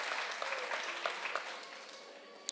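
Audience applause at a Miami-Dade NAACP congressional townhall for District 24 candidates, a steady patter of clapping from a room full of people, fairly distant and gradually fading toward the end.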